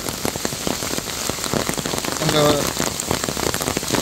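Heavy rain pours down over a large railway ground in Pakshi, a dense, loud, continuous patter of drops striking surfaces close by, with no voices.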